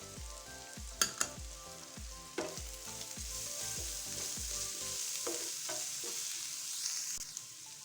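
Spiced masala for a chicken chana daal samosa filling lightly frying in a pan, a steady sizzle with repeated scraping stirs for about five seconds, then quieter sizzling alone, close and clear.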